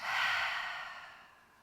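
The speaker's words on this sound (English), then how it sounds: "breathe in through the nose and breathe out through the mouth with the HA sound" A single breathy exhale pushed out through the mouth with a soft HA sound during a Pilates class, loud at first and trailing off gradually over under two seconds.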